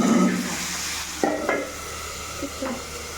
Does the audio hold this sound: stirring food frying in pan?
yes